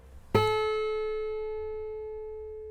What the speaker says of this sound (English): Here's the peak of A at 432.